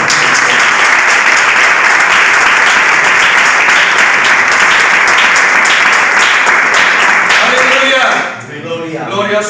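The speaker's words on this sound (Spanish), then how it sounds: "Quiero dar un aplauso al Señor." A congregation applauding during a Bible study gathering, loud and continuous group clapping close by for about eight seconds before it stops abruptly and a voice begins speaking at the end.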